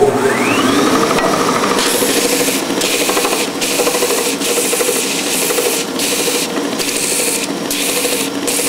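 Sandpaper rubbing steadily against a wooden game box, a continuous close raspy scratching with brief rhythmic pauses as the block is shifted and rotated.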